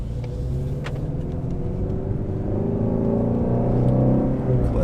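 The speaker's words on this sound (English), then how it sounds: "Release the clutch, add some gas." A Ford Mustang GT350 with a manual transmission pulls away from a right turn in first gear after the clutch is released, its engine rumbling low and building steadily and loud from start to finish with no voices.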